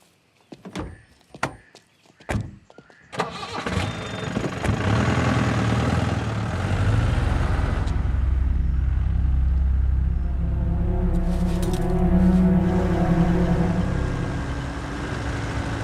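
A car door thuds shut a few times before the engine starts, then the motor settles into a loud, steady rumble as the car pulls away and keeps running.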